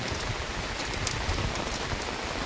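A torrential morning downpour in a village at about nine o'clock makes a thick, constant hiss of rain drumming on surfaces, close and unbroken, with no talk.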